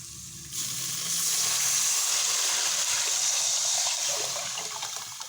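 Water poured into a pot holding rice and moong dal for pongal, a steady loud gushing, sizzling rush that starts abruptly after a quiet moment and continues for several seconds, alone with no talk.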